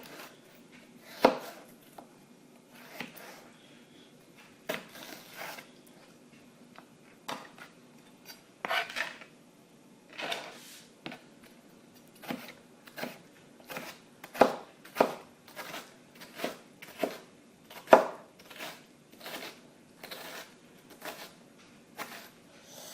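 A knife cuts through half a cucumber on a chopping board in a series of distinct, fairly quiet thuds with irregular pauses that quicken toward the end.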